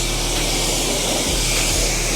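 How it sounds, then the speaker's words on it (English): Cleaner sprayed onto the rims of a Porsche GT3 RS sports car, a steady loud hiss with a faint low rumble underneath. "by just spraying that cleaner"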